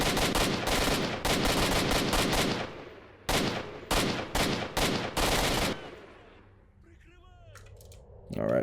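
Bursts of automatic gunfire in S.T.A.L.K.E.R. Shadow of Chernobyl, loud and close, with rapid clusters of shots broken by short pauses, then a quieter lull with faint clinks before one more sharp shot.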